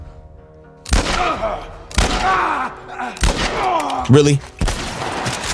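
Gunfire in The Last of Us: four loud, widely spaced shots, each with a booming thud and echoing tail, with a voice speaking briefly between them.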